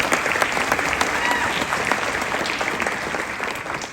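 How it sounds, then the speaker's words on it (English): Dense, steady applause from an audience at an evening jazz festival in Juneau honoring its sponsors, loud and continuous for the whole stretch with no break. "A round of applause for them."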